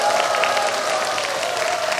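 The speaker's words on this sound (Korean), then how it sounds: "여러분 큰 박수 한번 주세요" An audience applauds at an outdoor trot gala show at Daejeon O-World, a dense, steady wash of clapping that holds at an even level for about two seconds, with a sustained tone running underneath.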